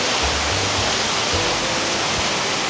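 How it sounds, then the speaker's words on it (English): Waterfalls cascade down a small valley lined with wooden timber-built houses in Bosnia, giving a dense, steady, close roar of rushing water that never lets up. "The waterfalls here cascading down this little tiny valley with all these wooden timber-built houses."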